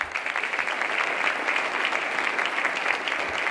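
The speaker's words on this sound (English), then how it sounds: "Let's give a round of applause" Steady, full applause from a crowd at a city's State of the City address, sustained clapping across the whole stretch with no break.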